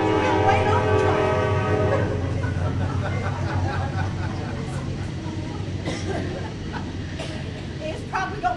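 A train horn sound effect in a stage comedy routine blares as a loud, sustained chord at the start, then gives way to a rumbling, noisy wash of rolling train sound.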